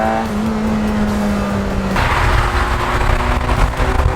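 A Ferrari 348 engine revs hard under acceleration on a road drive to a cars and coffee meet, a steady tone that suddenly jumps louder and rougher as the throttle opens, heard from inside the car.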